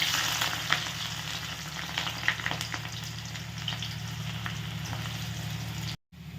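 Onions frying in hot oil in a wok (kadai) for a home-style chicken roast, a steady close sizzle and crackle running continuously without talking, then cutting out briefly near the end.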